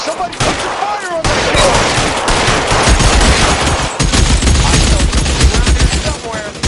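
Sustained gunfire in the video game L.A. Noire, dense bursts of rapid automatic fire and overlapping shots in a loud firefight, with a short lull after the first second and faint voices in the mix.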